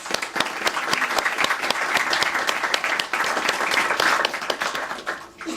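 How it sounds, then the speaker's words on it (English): Audience applause at the grand opening of an affordable housing building, a dense, steady wash of many hands clapping close by for about five seconds before tapering off at the end. "let's give them a round of applause"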